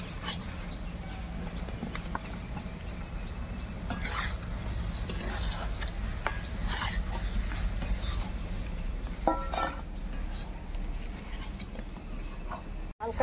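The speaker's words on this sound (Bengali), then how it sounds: "মাংসটা ভেজে রেখেছিলাম, এবার মশলার সাথে কষিয়ে নেব।" Chicken meat sautés with spices in a pan, a low frying sizzle under repeated scraping and clinking of a spatula against the pan, continuing steadily with no talking.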